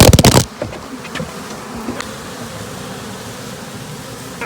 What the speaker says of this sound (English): I'll shake the bees out of the nuke in front